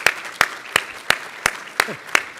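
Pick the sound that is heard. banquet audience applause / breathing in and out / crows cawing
banquet audience applause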